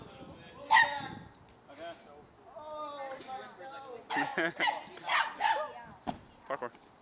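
A boxer dog barks and yips in short, excited bursts while playing, some sounding playful, with people talking and shouting around it.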